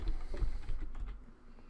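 Keys tapped on a computer keyboard while entering a web address, a brief run of close keystrokes over a steady low background hum.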